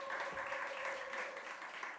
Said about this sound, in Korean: 우리 찬양팀과 우리 또 미디어팀을 위해서 박수 한번 보내드리겠습니다.